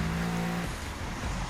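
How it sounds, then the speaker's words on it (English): A car in The Crew 2 racing game kicks in its nitro boost on a straight, a loud sustained engine roar whose steady tone breaks into a rougher surge partway through. "Now going straight, kick up the nitro."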